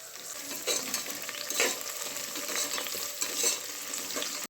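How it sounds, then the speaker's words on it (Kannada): Beans and carrots stir-fried in a tempering of oil in a pan, a close, steady sizzle broken by repeated scraping stirs of a spatula, with no talking. "ಬೀನ್ಸು ಮತ್ತು ಕ್ಯಾರೆಟ್ ಎರಡನ್ನೂ ಹಾಕ್ಬಿಟ್ಟು ಅದನ್ನು ಚೆನ್ನಾಗಿ ಫ್ರೈ ಮಾಡ್ತೀನಿ"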